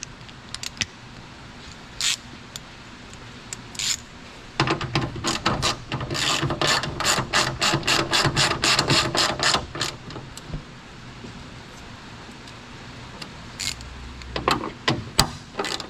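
A hand ratchet driving 10mm bolts into plastic threads on a Toyota Tacoma bed, with a fast run of crisp rhythmic clicks mid-clip between scattered clanks and handling noises, close and loud.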